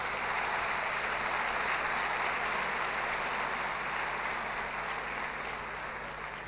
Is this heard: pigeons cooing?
no